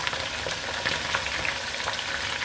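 Chicken, a kilo and a half, sizzling and crackling steadily as it is browned in a pot for chicken nihari, a dense continuous frying hiss with small pops throughout and no voices.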